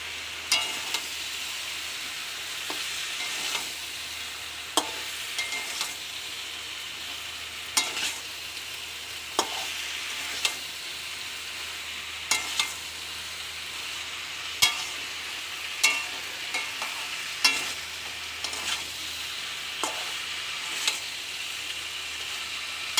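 Stirring fried vegetables and Malabar spinach greens in a pan, a steady low sizzle punctuated by regular scraping clacks of a spatula roughly every second, close and with no voices.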